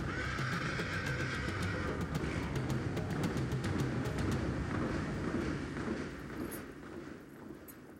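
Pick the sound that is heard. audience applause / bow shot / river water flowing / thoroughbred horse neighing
thoroughbred horse neighing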